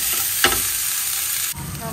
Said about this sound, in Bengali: মূলোটা ভাজা হয়ে গেছে